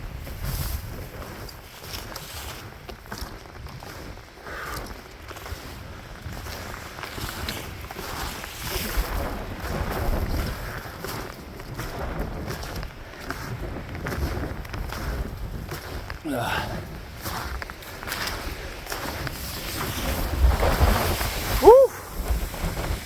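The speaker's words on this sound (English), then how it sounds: "it's windy up here" Wind gusting across an exposed mountain summit, a steady broadband rush and buffeting of the microphone that holds through the whole stretch and swells louder near the end, with faint movement noises underneath.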